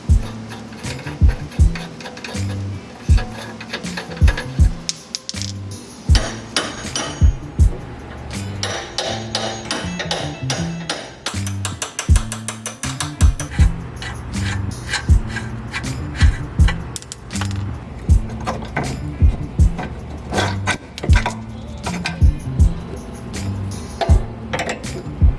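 Ratchet working 19 mm bolts off a Genesis Coupe toe arm, heard as steady repeated clicking and metallic knocks over a constant workshop background, close and fairly loud throughout.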